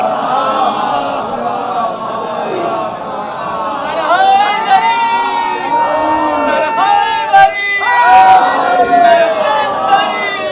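Large crowd at a religious majlis raising loud chanted slogans in unison, dense overlapping voices with rising bursts and shouts, continuous and close throughout.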